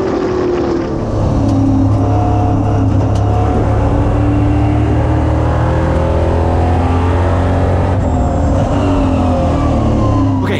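Race cars in a EuroNASCAR racing video game roar off the line at the race start, a loud, continuous wall of engine noise with rising revs and overlapping cars throughout.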